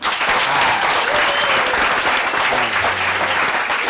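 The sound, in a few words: studio audience applause for the guests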